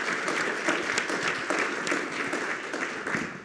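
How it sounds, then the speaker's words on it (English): An audience at a security forum in Washington, D.C., applauds Senator Young, with steady, sustained clapping from a crowd at moderate distance and no speech over it. "So I want to hear a round of applause for his bipartisan leadership on this important issue."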